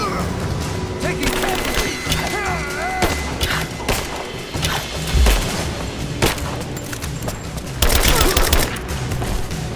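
Gunfire in a Rise of the Tomb Raider firefight: dense bursts of shots and automatic fire with crashes and thuds throughout, loud and continuous, with voices calling out in between.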